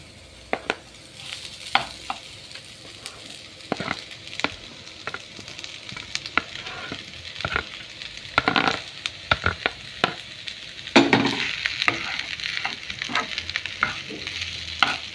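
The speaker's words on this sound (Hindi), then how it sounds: "पियाव भाजलो आनी आतां तितून बटाट घाता." Potatoes are stirred into fried onions in a pan for batata vada. A sizzling bed runs under repeated scraping and tapping of the spoon, which grows louder and busier toward the end.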